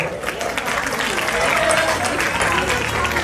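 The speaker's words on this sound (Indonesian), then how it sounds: "Tepuk tangan untuk Ananda bertiga." Audience at a Quran memorisation graduation applauds, a steady wash of clapping lasting a few seconds, mixed with crowd murmur and a voice talking over it.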